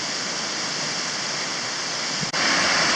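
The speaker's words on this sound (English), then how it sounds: "this is where the Red River is draining down into the ocean" The Red River pours down into the ocean at a trailhead on the Cape Breton coast, a steady, full rush of water that stays loud and unbroken throughout, with no voices.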